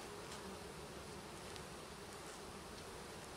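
Honeybees from a shipped package swarm and buzz steadily at the hive during installation, a dense continuous drone with no talking.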